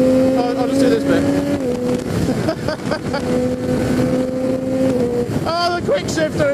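A Triumph Street Triple RS motorcycle with a quick shifter revs hard at close range. Its steady engine drone drops sharply at each quick gear change, and wind buffets the microphone while a rider talks over it.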